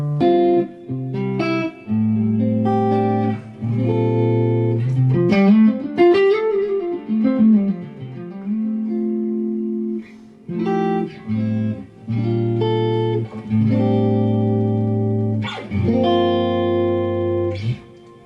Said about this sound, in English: So here's my clean tone, this kind of thing.